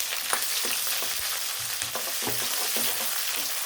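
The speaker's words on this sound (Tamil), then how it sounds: "இப்போ ஒரு வெங்காயம் சேர்த்துருக்கேன்." Onion sizzles in hot oil in a pan for chicken varuval, a steady crackling fry broken by the scrape and clink of stirring, close and continuous.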